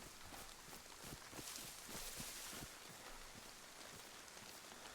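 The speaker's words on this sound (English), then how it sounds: "since it's raining and dark, it's still a risk" Steady rain falling in the video game DayZ on the Chernarus map, a faint, even hiss with scattered droplet patter, at night and with no other sounds.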